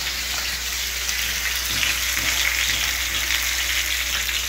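Spice-coated pomfret fish frying in a pan gives a continuous bright hiss of hot oil that stays even and close throughout, with no voices.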